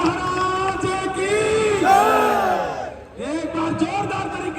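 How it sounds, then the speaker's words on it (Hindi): A village crowd at a kushti wrestling match in India cheers and shouts loudly for the wrestlers, with excited voices and yells filling the scene continuously, briefly dipping before rising again. "जोरदार तालियां पहलवानों के लिए"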